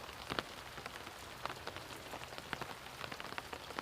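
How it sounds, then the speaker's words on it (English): Steady rain falls at the Francis Scott Key Bridge collapse salvage site in Baltimore, a constant dense hiss scattered with sharper drop impacts, with no voices. "in the rain"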